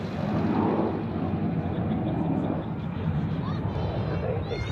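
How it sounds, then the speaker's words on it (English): An EasyJet Airbus A321 rolls on the runway at foggy Zurich Airport, a steady, fairly loud broadband jet roar holding throughout without any break. "EasyJet coming up on the runway in A321"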